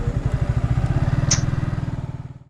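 A Yamaha MT-15 motorcycle engine thrums steadily on the road from Hyderabad toward Srisailam, a close, even, pulsing beat that stays loud and fades slightly at the end, with a faint brief clink midway.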